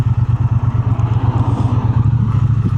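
A Triumph Bonneville motorcycle engine idles close by with a steady, rapid low thumping pulse that stays loud and even throughout.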